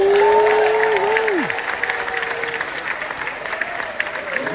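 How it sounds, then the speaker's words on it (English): Applause from a cruise ship dining audience on Freedom of the Seas during a Caribbean night food tasting, a broad crackling wash of clapping and crowd noise under tonal sounds, easing off after the first second or so. "let us know by measure of applause how you would enjoy the food so far"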